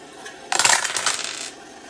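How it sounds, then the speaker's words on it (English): Three dice clatter together as they are rolled for a Strat-O-Matic baseball board game, a sharp burst of rattling and tumbling that fades quickly. There are no voices. "Reroll. Didn't have all 3 dice."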